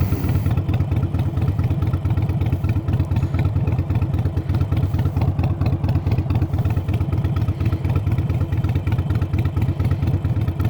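A Harley 883 motorcycle idles close up with a steady, uneven low chugging pulse and mechanical clatter, running continuously without revving.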